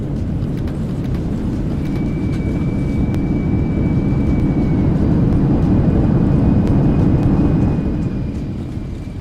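Embraer E-Jet in the X-Plane 12 flight simulator rolling out after landing with thrust reversers deployed, a loud, steady broadband engine roar that swells slightly midway and eases near the end, with a faint tonal whine above it and no talking.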